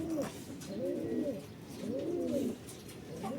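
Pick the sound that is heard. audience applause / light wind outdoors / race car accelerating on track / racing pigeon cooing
racing pigeon cooing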